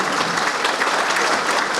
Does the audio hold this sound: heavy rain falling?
no